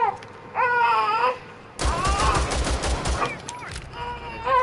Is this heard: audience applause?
no